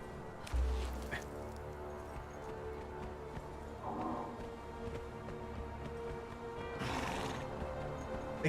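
A horse in the Conan Exiles video game neighs and whinnies after a fight with a goat, several mid-level calls over a steady game background, with faint talking.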